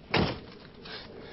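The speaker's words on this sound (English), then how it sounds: "the door not only opens normally," The door of a Smart car, shaped like its caged body, swings open with a sharp, close thud. Quieter rustling and a softer second movement follow.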